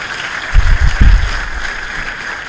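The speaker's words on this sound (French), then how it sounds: "Vraiment, il faut les applaudir très fort." Applause from a packed university lecture hall audience, a short burst of clapping that rises, peaks and trails off over a couple of seconds.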